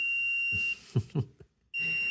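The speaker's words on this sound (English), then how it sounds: "so that beeping lets you know that it's about to reach the temperature" A Sunlu filament connector gives a steady high electronic beep tone as it nears temperature, breaks off for a few soft clicks and bumps, then the same continuous beep resumes.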